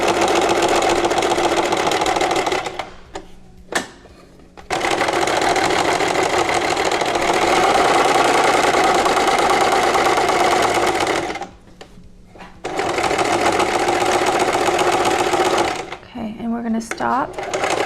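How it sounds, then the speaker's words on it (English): Sewing machine top stitching a fabric face mask, a steady loud motor whir running in long stretches with two brief pauses and a stop near the end. "The second to last step is top stitching."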